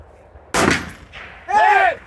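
Two sharp gunshots ring out about a second apart at an outdoor shooting range during a long-distance target event, each one loud with a brief echoing tail.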